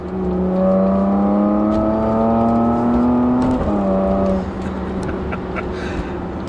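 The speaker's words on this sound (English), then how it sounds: "I need to do now is basically put it into Sport Plus mode as well, and give it a spanking" A Porsche Macan GTS in Sport Plus mode accelerates hard, its engine note climbing steadily in pitch through a gear, briefly dipping at a shift, then pulling again as loud, close cabin sound.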